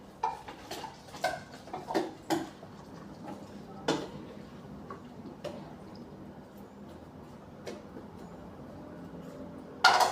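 Vegetables for sweet and sour chicken cooking in a pan, with a cluster of sharp utensil clinks and taps early on, then sparser knocks over a soft, steady cooking hiss.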